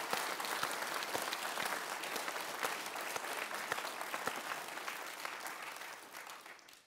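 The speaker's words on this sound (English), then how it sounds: "We'll just give Jessica a round of applause" An audience at a talk on the real science behind CSI breaks into a round of applause, a dense, even wash of many hands clapping that holds steady and then trails off near the end.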